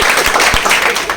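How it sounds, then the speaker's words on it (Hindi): Audience applause at a business event in Bhagalpur, a burst of many hands clapping in a dense, steady patter, loud and close, with no talk over it. "एक बार इनके लिए ताली बजा दीजिए"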